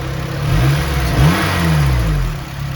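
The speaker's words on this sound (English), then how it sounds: "Give it a little bit of gas." A low-mileage eighth-generation Honda Civic Si engine, said to need a valve adjustment, revved several times from idle, each blip rising and falling in pitch, loud and close with no talking.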